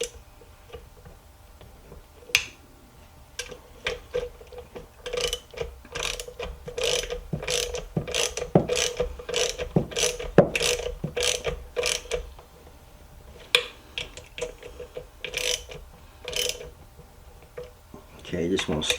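A hand ratchet snugs down intake manifold bolts on a Chevy 3.6 LLT V6, sounding as bursts of quick, sharp clicking that stop and start in steady runs, with faint talk now and then.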